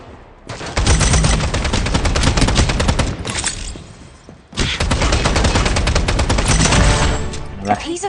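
Rapid automatic gunfire in the video game Strinova, loud and close, in two long sustained bursts separated by a brief pause, with a few scattered shots at the end.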